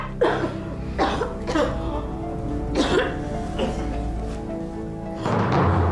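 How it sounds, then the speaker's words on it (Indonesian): A person coughs up blood repeatedly in harsh, uneven bursts, close by, with some throat clearing between coughs. "kenapa bisa batuk darah begini?"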